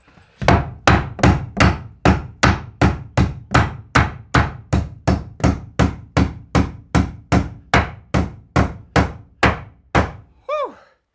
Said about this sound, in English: This is actually a Plum hammer, the Plum brand.